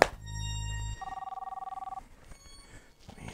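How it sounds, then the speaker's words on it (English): A telephone rings indoors: a low buzzy tone, then a rapid trilling electronic bell ring lasting about a second, loud and close, fading into faint room noise with no talking. "Is that the phone?"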